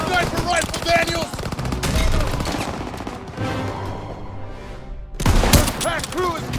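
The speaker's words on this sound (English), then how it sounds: "Everyone, open fire!" Rapid gunfire and bursts of machine-gun fire from the Call of Duty: WWII game in Operation Cobra, loud and dense with sharp cracks, a brief lull, then renewed shooting, mixed with shouted voices.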